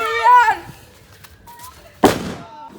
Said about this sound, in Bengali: চকলেট বম ফাটা